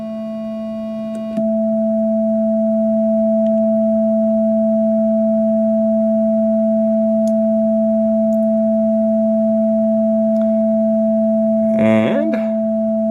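A steady, pure sine tone from an ER-301 synthesizer module starts abruptly and holds unchanged throughout, with a faint upper partial and a brief chirpy blip near the end.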